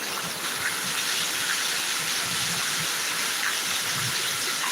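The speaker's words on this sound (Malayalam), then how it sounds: "നല്ല സൗണ്ട് ഉണ്ടോ മഴയുടെ സൗണ്ട് ഉണ്ടോ" A constant roar of heavy rainfall in Thiruvananthapuram, loud and unbroken, with splashing water and no voices.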